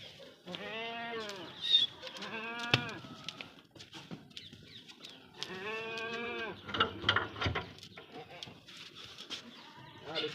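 Several goats bleat nearby on a goat farm in Punjab, long wavering calls, two or three in a row, separated by short pauses with quieter background noise between them.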